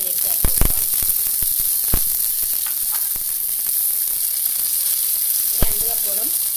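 Fish curry masala with soaked kudampuli sizzling steadily in a hot pan, a constant bright hiss under scattered stirring clinks and scrapes, with brief speech in the background.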